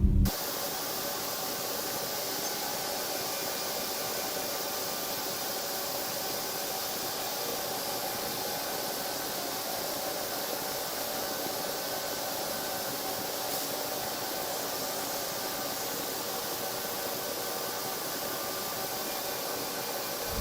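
Cotton gin machinery at a Brownsville gin runs with a steady, loud broadband roar and hiss, like a module feeder and disperser head breaking up round or square cotton modules, continuous and unchanging throughout with no voices.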